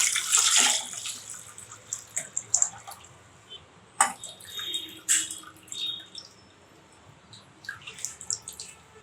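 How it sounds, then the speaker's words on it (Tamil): Tamarind extract poured into a pot while making Tamil-style tomato rasam, giving splashy liquid drips and trickles, loudest at the start, with a few clinks and soft pours afterward and no talking. "அந்த புளி கரைசலை நான் இதில் சேர்க்குறேன்."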